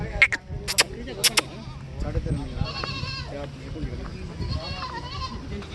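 Goats bleat in a few wavering calls at a busy village goat market, mixed with clicks and background bustle while people talk nearby.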